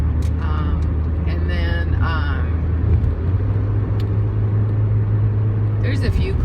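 Road traffic with a truck and cars rolling past, a steady low rumble and drone that swells mid-clip, while someone talks over it.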